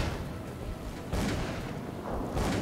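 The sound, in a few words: gunfire in the video game Call of Cthulhu: Dark Corners of the Earth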